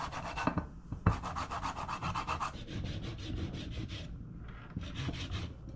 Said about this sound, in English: I'm going to try to zest the lemon here.